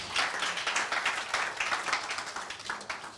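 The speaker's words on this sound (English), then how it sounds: "let's give Jesus a big applause" Church congregation applauding after a healing testimony, a dense patter of many hands clapping at moderate volume throughout, fairly close and steady with no voices over it.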